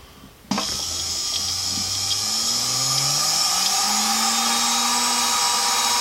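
A high, steady whine of a rotary polishing wheel with polish paste on fire agate stone starts abruptly and runs continuously, its pitch shifting slightly as pressure changes.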